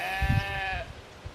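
A single sheep bleats nearby in one drawn-out wavering call lasting under a second, with a few dull low thumps underneath and quiet afterward.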